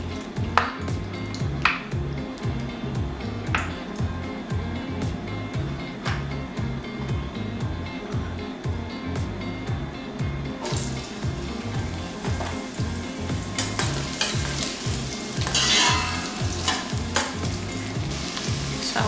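Red palm oil frying in a pot while being stirred, a loud continuous sizzle broken by regular scraping and clinking strokes of a spoon, no one talking.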